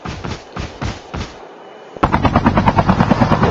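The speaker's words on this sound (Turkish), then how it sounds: "Helikopterle gidelim arkadaşlar yavaş yavaş." Helicopter rotor chopping and rapid gunfire in the mobile shooter game Call of Duty Mobile, loud bursts of shots with a brief pause, then a dense, fast rattling rotor and gun sound.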